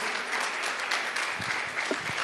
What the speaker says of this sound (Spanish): Dele palmas fuertes a su Dios.